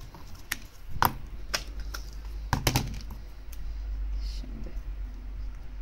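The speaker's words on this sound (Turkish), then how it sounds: "Bunu ben düz makasla yapacağım." Straight scissors cut through paper while making a shuttered craft window, giving several crisp, close snips at irregular intervals over a low steady background hum.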